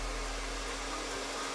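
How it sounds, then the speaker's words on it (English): A hair dryer runs steadily on power from a Bluetti lithium solar power supply, giving a loud, even whoosh of airflow with a constant motor hum and no break from start to finish. "So you could absolutely run a hairdryer and dry your hair with this."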